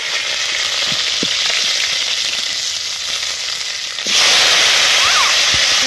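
Cauliflower and potato pieces fry in hot oil in a pan over a strongly burning stove, giving a steady close sizzle that grows louder and harsher after new pieces are added partway through.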